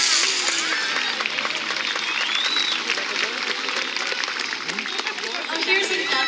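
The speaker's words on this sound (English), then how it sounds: "Let's give a big round of applause." Large audience applauding at a SeaWorld San Diego killer whale show, a dense, loud wash of clapping and crowd noise that runs steadily throughout, with a few cheers and whistles mixed in.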